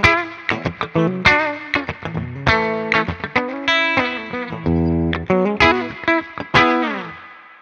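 An electric guitar runs through a Wampler Mini Faux Spring Reverb pedal with heavy reverb and some distortion, playing a loud, choppy sequence of notes and chords whose tails ring and wash out between strikes.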